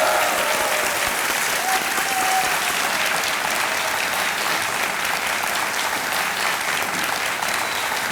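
A studio audience at a televised quiz show applauds a winning contestant, with loud, sustained clapping from many people, steady and full throughout.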